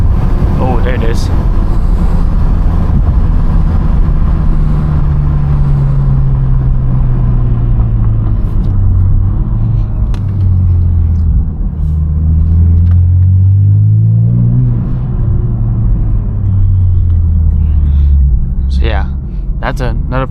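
A Lexus IS 350 with an Apexi exhaust drones and revs while driving, with slow rising and falling engine notes and scattered pops near the end, and a person talks over the continuous rumble.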